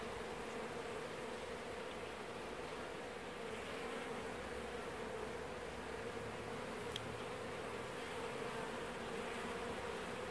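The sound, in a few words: honeybees buzzing in an aquarium observation hive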